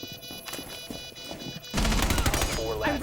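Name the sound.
pistol gunfire in Rainbow Six Siege video game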